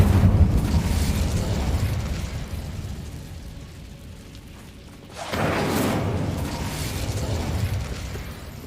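A fiery Incendio spell blast in Hogwarts Legacy, a loud burst of flame at the start that tails off into a low rumble, followed by a second whooshing flare of fire midway through, with no talking.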